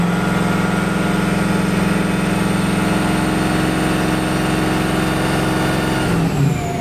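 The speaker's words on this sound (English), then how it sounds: "we're gonna set to 2500 to 3000 RPM and then start testing. So we'll bring our RPMs up." A Duramax diesel truck engine runs at a steady 2500-3000 RPM, a loud, close, constant drone with a fixed pitch that drops slightly near the end as the revs fall.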